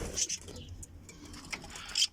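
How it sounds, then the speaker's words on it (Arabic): Lovebirds kept in a cage on a farm chirp in short, bright bursts near the start and end, with soft fluttering and pattering between calls at moderate distance. "وهاي طيور حب، هاي طيور الحب المفتلات"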